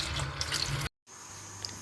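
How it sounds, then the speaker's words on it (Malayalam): Pasta being rinsed under running water from a kitchen tap, a steady close splashing flow that cuts off briefly and then resumes. "നല്ലപോലെ കഴുകി എടുക്കുക"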